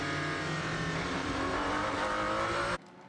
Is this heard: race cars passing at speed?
yes